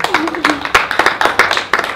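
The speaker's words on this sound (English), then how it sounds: "Give yourselves a big round of applause" A small audience at a Black History Month film festival discussion claps in scattered, uneven bursts, with a voice talking over the brief spattering of hands.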